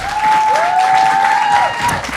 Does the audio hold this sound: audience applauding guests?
yes